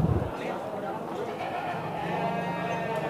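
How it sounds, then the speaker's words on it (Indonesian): Sheep at a busy livestock market ahead of the Eid sacrifice, with a large ram nearby, bleating amid a crowded, noisy background and people talking. "Ini dombanya besar."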